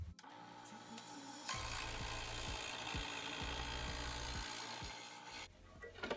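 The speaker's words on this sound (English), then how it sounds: "I'm gonna start cut by cutting it with a scroll saw." A scroll saw buzzes continuously through a wooden skateboard blank, its pitch dipping repeatedly as the blade bites, after a brief quiet start, then stops near the end.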